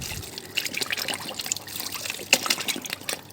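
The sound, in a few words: watering plants with organic fertilizer water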